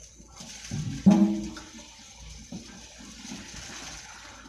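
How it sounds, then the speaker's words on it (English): Cooked noodle water for haluski pours out into a colander in a short gushing splash, rising suddenly and then trailing off into quieter trickling and kitchen noise. "I'm going to take this over to the colander and drain off the water"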